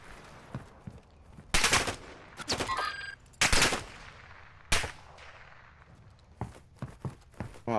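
Gunfire in the video game DMZ: several loud, sharp shots and short bursts, some close and some more distant, separated by quieter gaps with footsteps, and no talking.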